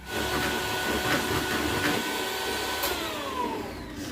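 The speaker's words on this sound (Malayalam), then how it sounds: "ഈ മുട്ടേനെ നന്നായിട്ട് ബീറ്റ് ചെയ്തെടുക്കാം" An egg being beaten in a mixer jar gives a steady, close whirring motor roar that runs continuously throughout with no talk over it.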